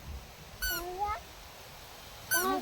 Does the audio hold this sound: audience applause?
no